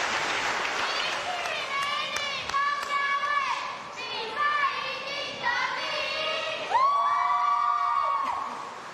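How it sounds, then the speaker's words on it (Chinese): An audience applauds and cheers after a stage performance, with clapping mixed with whoops and raised voices, fairly close and lively throughout. "我们掌声谢谢高家卫带来的表演"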